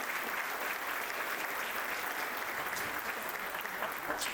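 Conference audience at a panel on consumption taxation giving a round of applause, steady dense clapping from many hands at moderate distance, sustained evenly throughout with no talk over it.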